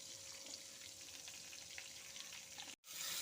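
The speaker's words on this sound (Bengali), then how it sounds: "বাটারটা মেল্ট হয়ে যাচ্ছে আস্তে আস্তে" Butter melts in a hot wok for a mutton butter curry, making a continuous soft, even sizzle up close that cuts out for a split second near the end.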